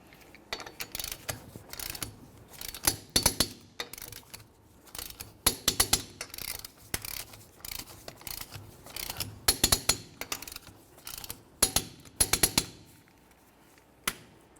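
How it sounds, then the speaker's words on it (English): A torque wrench tightens four 19mm lug nuts to 100 foot-pounds on a 2005-2010 Chevrolet Cobalt, giving repeated close bursts of sharp ratcheting clicks separated by brief pauses. "let's continue on to torquing each of our 4 19mm lug nuts to 100 foot-pounds"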